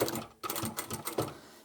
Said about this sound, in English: we're ready to go back to the machine one final time and sew all the way down there